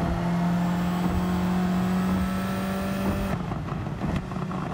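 A race car's engine in Gran Turismo 7 holds a steady, sustained drone at partial throttle, a loud constant hum that thins out near the end as the power eases off.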